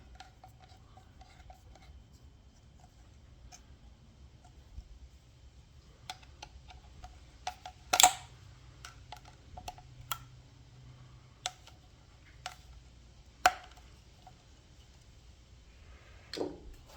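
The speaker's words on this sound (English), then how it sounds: "we'll tighten down our inner clamp" An inner hose clamp is tightened with a hand tool during an engine install on a Lincoln SA250 welder, giving quiet scattered ticks and metallic clicks with a few sharper clinks over low background hum.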